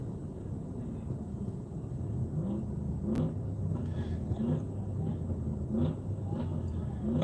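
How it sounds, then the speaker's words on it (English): Low engine rumble from trucks being revved nearby, with rising and falling revving tones repeating over a steady background drone. "we got a bunch of kids out here revving trucks"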